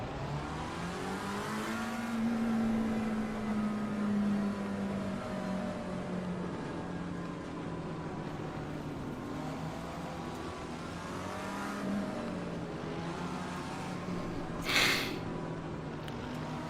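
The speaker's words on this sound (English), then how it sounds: "we do get to hear the engine start up again" A race car engine in the Assetto Corsa Competizione video game at the Zandvoort circuit revs and drones continuously, with rising and falling pitch sweeps as it accelerates, a sustained mechanical whine at moderate distance.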